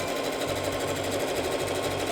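A sewing machine runs fast and steadily, stitching a long fabric seam for a costume dress, its dense rapid whirring close and continuous throughout with no pauses.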